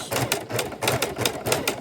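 A sewing machine runs at slow speed, stitching a small keychain wallet with a steady, rapid needle clatter in close repeating bursts, loud and near with no voices.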